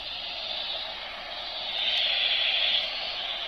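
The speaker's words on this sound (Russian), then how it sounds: "Режим белый шум." Steady white noise hissing from a baby's night light sound machine, a continuous broadband shush at moderate level that swells slightly partway through, with no voices.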